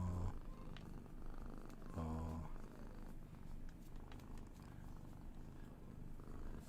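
Former feral cat purring up close, a soft steady rumbling purr with quiet breathy pulses, faint and continuous with a few brief louder bursts near the start and middle.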